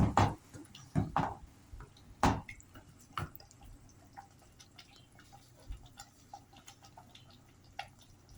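Water from a glass poured into a pot of chicken and tomato sauce for biryani, giving a loud splashing burst at first, then scattered drips, bubbling and small clinks at moderate distance.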